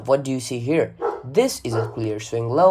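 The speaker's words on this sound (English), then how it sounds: "Oops, sorry for my dogs." Dogs bark and yip repeatedly in a room, close and fairly loud, overlapping someone speaking throughout.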